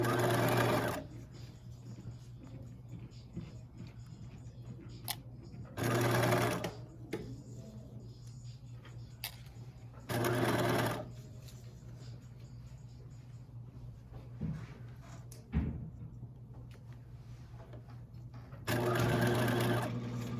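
A sewing machine stitches a fabric romper in several short, close bursts of rapid mechanical whirring, separated by quieter stretches with a low steady hum and faint handling noises.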